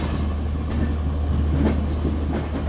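A passenger train on the Kashi Vishwanath Express route rolls slowly into Lucknow Junction, giving a steady low rumble with faint clickety-clack of wheels over rail joints, heard continuously and close from on board.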